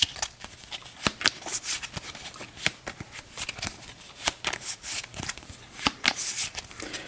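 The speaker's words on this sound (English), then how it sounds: "It's a 6-card shuffle, so it's not the greatest shuffle in the world" A deck of cards for the board game Astro Knights Eternity being shuffled by hand in quick repeated riffling bursts with sharp snaps, close and loud for several seconds.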